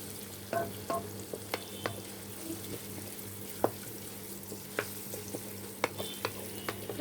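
Two large chopped onions frying in a pan for a khuder vaat (broken rice) recipe, a soft steady sizzle with intermittent clicks and scrapes of stirring, heard alone without talk.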